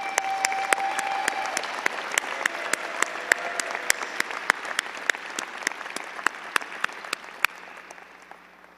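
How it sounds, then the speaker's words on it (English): Audience at a business school commencement ceremony applauds award recipients, a steady wash of many hands clapping with a few sharp individual claps standing out, fading slightly toward the end. "Would you please join me in another round of applause for all of our recipients?"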